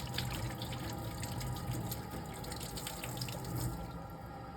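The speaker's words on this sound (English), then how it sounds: "Rub my hand under the water, come all the way through and out." Water running from a tap over hands during a surgical scrub, a steady splashing stream into a sink with soft drips and no voices.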